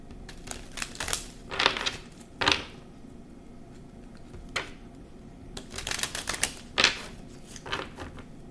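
Tarot cards are shuffled in several quick riffling bursts, crisp papery flutters close up with short pauses between them.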